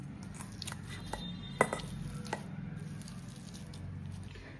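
Garlic, ginger and green chili are pounded together by hand for a pakoda paste, giving soft, damp thuds and squishes at an uneven pace, one sharper hit standing out, over faint room noise.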